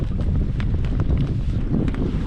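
Gusty wind buffets the microphone at a lake during crown land camping at Dollars Lake, a steady low roar with rustling bursts throughout, no voices.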